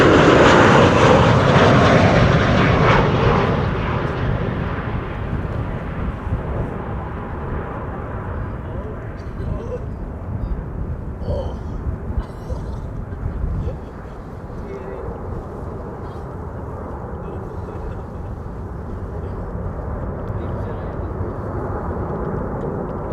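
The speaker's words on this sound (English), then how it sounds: "Ryanair in the meantime arriving here." A Ryanair airliner arriving at Amsterdam Schiphol Airport roars loudly overhead at first, then its broad engine rumble fades to a steady, more distant drone.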